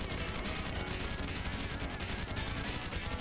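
Machine gun fire in a Teenage Mutant Ninja Turtles video game: a steady, rapid stream of evenly spaced shots rattles on without pause, fairly faint, with no talking.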